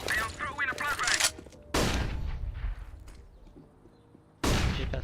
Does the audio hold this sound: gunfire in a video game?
yes